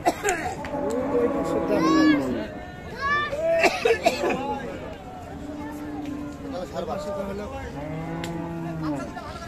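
Holstein Friesian cattle moo repeatedly in long, drawn-out calls, loud and close, overlapping one another with faint voices in the background at a cattle market in Dinajpur, Bangladesh.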